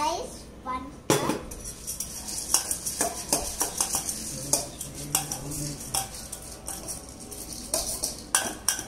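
A spoon stirs bhelpuri ingredients, puffed rice among them, in a metal bowl, giving repeated close scraping clinks and rattles at an irregular, busy rhythm.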